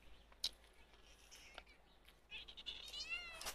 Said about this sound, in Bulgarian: това е котката на Богомил.